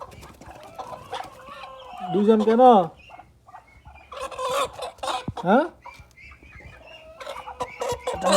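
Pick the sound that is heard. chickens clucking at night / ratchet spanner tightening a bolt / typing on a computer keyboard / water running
chickens clucking at night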